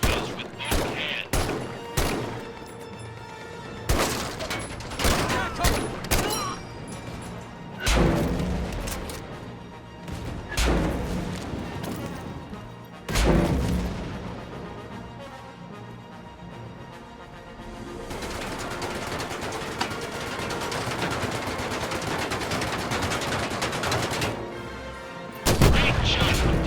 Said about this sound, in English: shoot the scout tank with a Panzerfaust